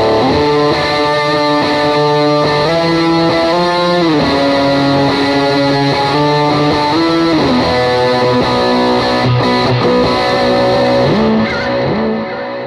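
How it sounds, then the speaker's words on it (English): An electric guitar through a Scarab fuzz pedal on a worship pedalboard plays loud, saturated sustained notes with sliding pitch bends, continuous and dense for the whole stretch with no talking. "from there we go to the fuzz sounds. So the first one is just the scarab"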